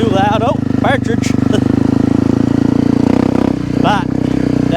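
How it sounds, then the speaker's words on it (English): A Honda CRF250L dual-sport motorcycle fitted with an FMF aftermarket exhaust pipe rumbles steadily at close range, its engine note rising in brief throttle blips while someone talks over it. "that FMF pipe is a little too noisy for my taste"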